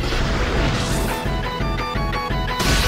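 In Pokémon Battle Revolution, a smashing-blow attack lands with a loud crash and impact burst, followed by ringing tonal game effects.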